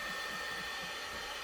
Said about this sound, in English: That's what the heat gun is for.